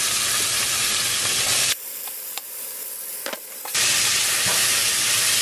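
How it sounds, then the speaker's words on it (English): Seasonings sautéing in a pot for ackee stew give a loud, steady sizzling hiss that drops away for about two seconds and then returns at full strength, close, with no talking. "I'm going to let this saute for a minute or two."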